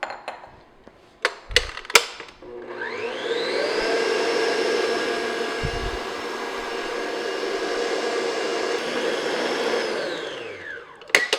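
An electric mixer beats Black Forest cake batter, whirring steadily for several seconds, starting up after a few clinks and knocks and then winding down at the end, heard up close.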